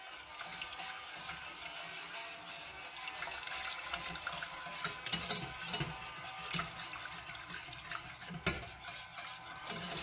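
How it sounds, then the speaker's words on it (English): Milk is poured slowly into melted chocolate while being whisked nonstop for Italian hot chocolate, giving a continuous close-up liquid stirring and swishing sound with small clinks and no talking. "we're going to slowly pour this into the chocolate while whisking continuously"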